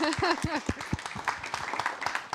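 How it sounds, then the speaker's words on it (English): Audience at a science and society forum on artificial intelligence breaking into applause, scattered claps building under and after a brief spoken voice at the start. "I think that's worth an applause."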